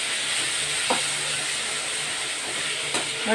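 Onions sautéing in a pan for a tomato masala gravy give a steady, close sizzling hiss, with a couple of faint stirring scrapes over the continuous frying.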